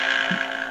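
A Stellan Gios Legacy lightsaber gives off a steady, deep, bassy hum with a faint higher buzz on top, quiet but continuous and close, with no other sounds.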